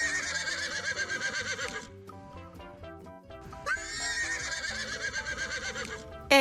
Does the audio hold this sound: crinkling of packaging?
no